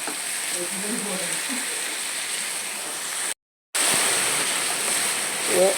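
Ginger garlic paste, slightly watery, sautéing in a hot pan with a dense, even sizzle close by, broken by one brief drop to silence midway before the hiss resumes.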